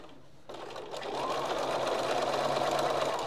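A sewing machine runs steadily, stitching a small fabric project, starting after a short pause and settling into a continuous close, whirring hum.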